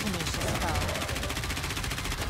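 Rapid, dense video game gunfire rattles continuously in a steady automatic stream during a boss fight, loud and close throughout.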